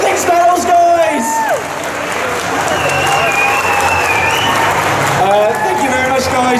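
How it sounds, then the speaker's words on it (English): Convention crowd at a Comic Con panel bursts into loud, sustained applause with whoops and cheering, whistles and shouts rising over steady clapping throughout. "give them a big thanks for a round of applause"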